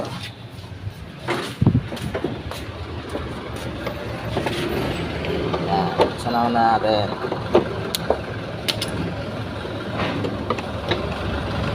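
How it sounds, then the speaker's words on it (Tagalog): A Yamaha Mio i 125 scooter with a starting problem is cranked and then idles with a low, steady engine rumble. People talk over it the whole time, and a few sharp knocks stand out. "Mag-start. Ito ang naging problema sa kanyang motor."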